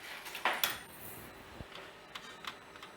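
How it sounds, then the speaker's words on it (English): Potatoes for sag aloo going into a home oven: a few close clattering knocks of a metal tray or dish, followed by soft scattered clicks and taps, with no talking. "Okay, so next we're going to put the potatoes in, the aloo,"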